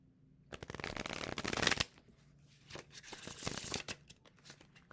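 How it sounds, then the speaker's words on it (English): A deck of tarot cards is shuffled close by, two bursts of rapid riffling and flicking separated by a short pause, crisp and papery against a quiet room. "so shuffling around here"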